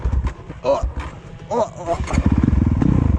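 A tuned Honda CRF450L dirt bike engine idling close by with a rough, lumpy exhaust beat, the thumping pulse growing firmer toward the end while someone talks over it.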